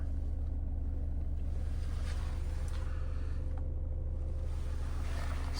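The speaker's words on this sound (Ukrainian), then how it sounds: "Моторчик працює рівнесенько, жодних проблем" A Skoda Octavia Style 2.0 TDI diesel engine idles smoothly, giving a steady, even low rumble with a constant hum and no talking.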